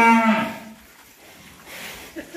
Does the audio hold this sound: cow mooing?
yes